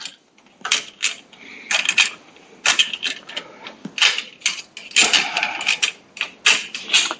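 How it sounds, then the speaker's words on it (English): A hand ratchet loosens 5/16 carburetor retaining bolts on a Briggs & Stratton 18.5 Intek engine from a Craftsman riding mower, giving repeated bursts of close, crisp clicking separated by short pauses. "we'll take these two carburetor retaining bolts off."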